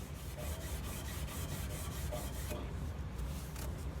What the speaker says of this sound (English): And that's cleaning off the rust actually pretty well.